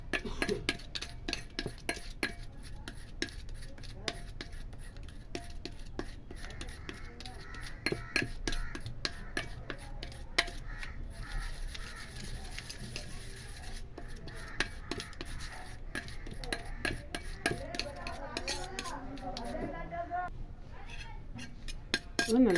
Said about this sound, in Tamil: இப்போ இந்த ஏடும் இந்த மஞ்சளும் நல்லா நம்ம மிக்ஸ் பண்ணிக்கணும்.